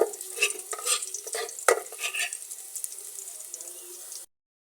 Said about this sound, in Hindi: चॉप किए लहसुन को लाइट सा ब्राउन कर देना।